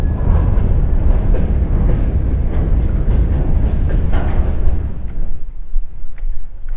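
Trans-Siberian Railway train running at a stop near Obluchye, a loud steady rumble and rattle of rail cars that drops away to a quieter hum near the end.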